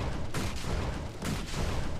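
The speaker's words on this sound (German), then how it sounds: "Das ist noch unser statischer Schuss" Static shot skill from Guild Wars 2 fires in a rapid electric burst, with two sharp broadband blasts standing out over a dense, continuous backdrop of game battle noise.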